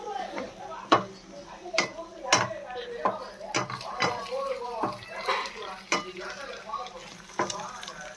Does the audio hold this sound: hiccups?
no